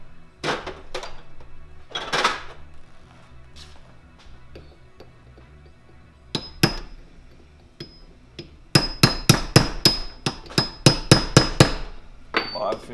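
A hammer strikes a punch while a Garelli NOI moped motor is rebuilt, with scattered taps early on and then a fast run of sharp, ringing metallic blows near the end.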